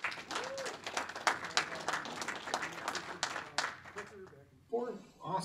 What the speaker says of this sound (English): So if we can give Mike Bergstrom a round of applause.